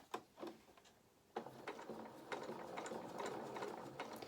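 A sewing machine stitches felt for a doll's fox head in short, slow bursts of ratcheting clicks. A few separate taps come first, then a longer run of steady stitching after a brief pause, close by with no voices.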